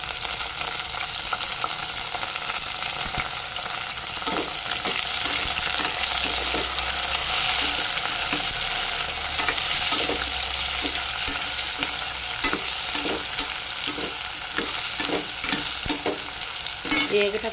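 Bitter gourd (kakarakaya) pieces fry in a pan for a tamarind stew, giving a steady, close sizzle with occasional stirring clicks and scrapes throughout, no voices.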